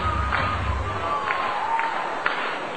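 A baseball stadium crowd at Cedar Rapids cheers and roars through the final out of a combined no-hitter against the Kane County Cougars, a steady distant wash with a few sharp claps and thuds.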